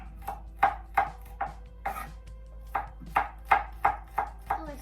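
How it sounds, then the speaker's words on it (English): Garlic cloves being chopped with a knife on a cutting board in a home kitchen while making bulgogi: a run of sharp, close knocks in uneven bursts, about a dozen in all, with no talking. "I have some garlic. I'm going to chop up. Cut the ends off, smush it down,"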